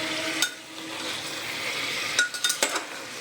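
Onion, garlic and chopped green chilli stirred in a pressure cooker: a quiet sizzle with a few sharp metallic clinks and scrapes of a spoon against the pot, clustered near the end, no voices.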